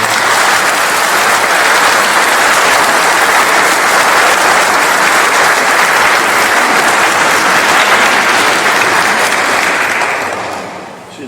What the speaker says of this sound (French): je vous demande de l'applaudir bien fort